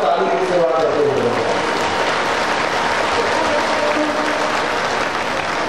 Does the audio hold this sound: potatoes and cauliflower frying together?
no